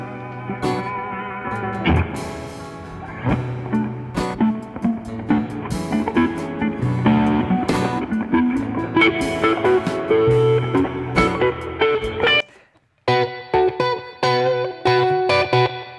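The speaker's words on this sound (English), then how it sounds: "Listening to the room, hearing that reverb." Electric guitar playing slowly with heavy reverb and effects during a live performance, sustained notes ringing out, a brief drop to near silence before it resumes.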